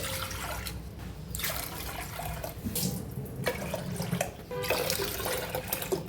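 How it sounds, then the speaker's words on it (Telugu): Water being poured from a cup into a thick-bottomed pot on a stove, a steady splashing pour repeated in several bursts across the clip, close and moderately loud with no talking. "ఇప్పుడు స్టవ్ ఆన్ చేసుకొని మందపాటి గిన్నె పెట్టుకొని ఏ కప్పుతో అయితే సగ్గుబియ్యం తీసుకున్నామో అదే కప్పుతో 5 cups వాటర్ వేసుకోవాలి"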